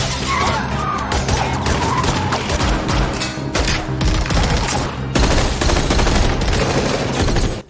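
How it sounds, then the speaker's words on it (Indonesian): A dense, loud shootout from the 2022 Korean spy thriller Hunt, with continuous overlapping gunfire and crashing impacts filling the whole stretch with no letup. "sehingga terjadi baku tembak"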